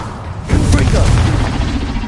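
A Confringo fire blast spell explodes in Hogwarts Legacy, a loud booming burst that rolls on as a sustained roar, with a voice speaking beneath it.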